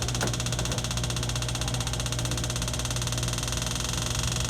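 Fan on a True TSSU-7 prep table refrigerator blows air across the evaporator coil, a constant close hum and whir with a steady low tone and slight rattle, no talk.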